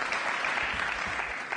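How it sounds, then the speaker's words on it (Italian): Audience applause at an Italian evening show, a steady dense wash of clapping that holds evenly throughout, close and full, with no voices standing out. "L'applauso di incoraggiamento vero proprio."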